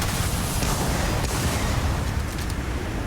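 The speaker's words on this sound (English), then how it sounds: "Lots of explosions." Dense rumbling explosions and heavy weapon fire in the space role-playing game Starfield, a continuous loud barrage with sharp bursts throughout, no talk.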